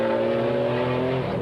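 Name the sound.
GT race cars passing at Paul Ricard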